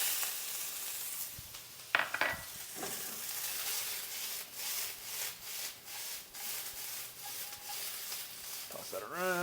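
Onion, ginger, garlic and scallion hit a very hot preheated pan, giving a sharp crackling sizzle with stirring scrapes and a few clunks of utensils, fairly close and without talk over it.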